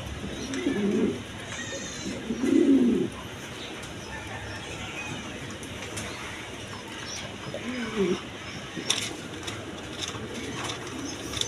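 A pair of German shield pigeons coo in a few low, throaty bursts near the start and again around the middle, with quieter background noise between them.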